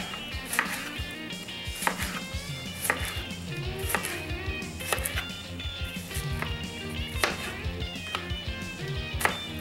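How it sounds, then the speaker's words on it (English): Kitchen knife chopping vegetables on a cutting board, cut on a bias for Mexican meatball soup: a steady series of sharp, close taps with a little clatter between strokes. "Slice on a bias."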